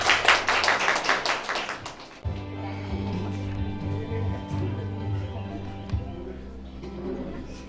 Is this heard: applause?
yes